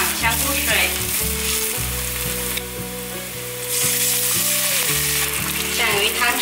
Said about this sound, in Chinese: 把香菇炒香，大约略炒一下